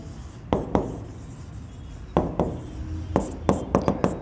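A teacher writes answer options on a board, the marker or chalk making short scratchy strokes in separate bursts with pauses between words, close by and with no talk.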